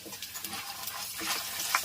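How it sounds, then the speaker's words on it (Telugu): Coriander seeds, chana dal, dried red chillies and fenugreek seeds being dry-roasted and stirred in a pan, giving a soft, steady, close dry rustle and scrape with no talk. "ధనియాలు పచ్చనపప్పు ఎండుమిర్చి వేపుకోవాలన్నమాట"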